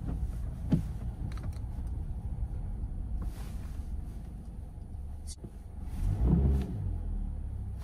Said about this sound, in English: The car is just stopping.